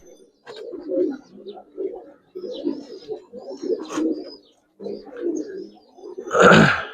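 Giribaz and Army pigeons cooing close by, a steady run of low throaty coos in repeated phrases with short pauses, ending in a louder flutter or rustle.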